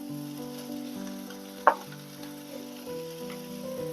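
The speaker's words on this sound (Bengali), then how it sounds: "ভালো করে ভেজে নেব" Fish fries in a pan for a Bengali vetki momo paturi, giving a quiet steady sizzle with one sharp pop partway through.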